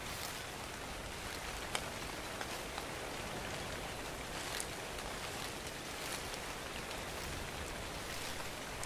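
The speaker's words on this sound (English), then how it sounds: "It is raining." Steady video game rainfall in ARK: Survival Evolved patters continuously at low volume, an even wash of droplets with no voices.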